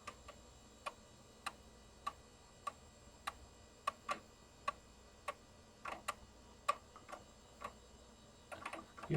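Compaq Deskpro 2000 Pentium Pro desktop booting from its floppy drive, giving a steady series of sharp, evenly spaced clicks and ticks from the drive mechanism, close and fairly quiet, with a faint hum behind and no talking.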